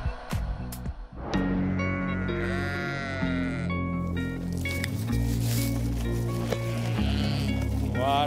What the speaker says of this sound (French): j'adore les moutons